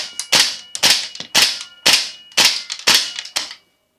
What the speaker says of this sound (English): Listen to this thing clang and thump.